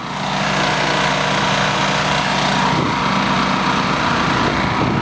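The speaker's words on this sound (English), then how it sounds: "Lawnmower engine on top of an old boat leg with the throttle." A small, high-revving lawn mower engine, mounted as a homemade boat motor on an old boat leg, drones steadily and loudly close by on a creek, rising in roar as the throttle opens partway through.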